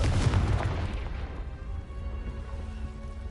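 A Confringo fire spell blast in the Hogwarts Legacy video game on PS4 booms loudly at the start, then its low rumble decays slowly into a sustained hum.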